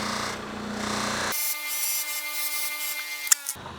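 Bench grinder fitted with a cloth buffing wheel polishing a woodworking chisel, a steady motor whine with a high tonal hum and a brief sharp contact scrape near the end, loud and close, without talking.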